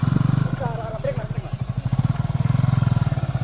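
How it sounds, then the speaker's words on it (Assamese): A motorcycle engine labours and revs hard while climbing a rough, badly broken hill road, a loud, close, pulsing throb that rises and falls, with people talking over it. "আৰু ফাইনেলি বাইকখন কিবাকে উঠাব পালোঁ, দুখন বাইকো।"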